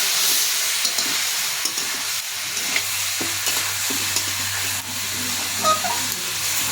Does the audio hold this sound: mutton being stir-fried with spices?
yes